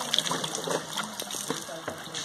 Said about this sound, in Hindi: वहाँ से ऊपर से पानी आ रहा है, मैं नीचे झरने में पानी पी रहा हूँ